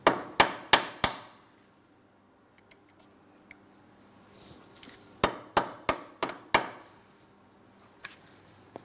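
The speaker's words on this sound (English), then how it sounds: "I like to use cutters to peen this over" Sharp metallic taps of side cutters peening over a cotter pin on an outer tie rod end of a 2004-2008 Pontiac Grand Prix: a quick burst of four hits, a pause with faint clinks, then another run of five or six ringing strikes, close and clear.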